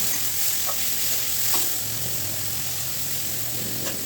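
Onion, chilli, tomato and carrot fry in a pan for breakfast pasta, giving off a steady close sizzle with a few soft scraping stirs along the way.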